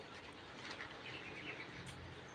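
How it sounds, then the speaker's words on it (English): Birds chirping faintly outdoors around a house surrounded by trees, including fruit trees, small scattered tweets over a steady wash of background noise. "Yes, there are birds around here."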